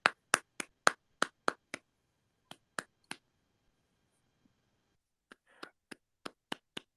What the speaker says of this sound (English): I'm just gonna keep clapping